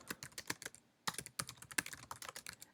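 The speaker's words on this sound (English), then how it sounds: "So I will type in the keywords" Keywords typed on a computer keyboard: quick, close clicking keystrokes in uneven bursts, with a short pause near the middle, fairly soft overall and no voices.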